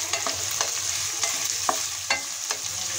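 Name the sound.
frying chopped onion and green chillies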